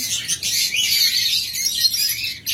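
A pair of lovebirds chirps close by in a rapid, continuous stream of high twittering notes, alone without any voices.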